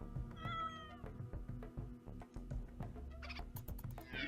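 A cat meows repeatedly in the video game Rimworld, a distressed cat that has lost its owners, with drawn-out cries close up and loud against a busy game backdrop.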